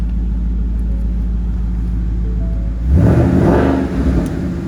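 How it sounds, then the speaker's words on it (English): A 2017 Ford Mustang GT Premium with Roush exhaust and intake idles with a deep, loud low rumble, then a brief swell in revs about two-thirds through before settling back. "Nice rumble to it. Love the Roush exhaust."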